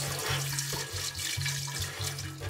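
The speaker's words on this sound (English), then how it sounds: "just give it a good rinse." Tap water runs into a glass jar being rinsed at a sink, a steady close splashing wash with low gurgling swells as the stream shifts, continuous over the short stretch with no talk.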